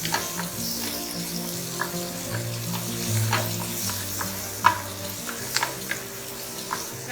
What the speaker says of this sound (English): Saute the onions as well until they soften.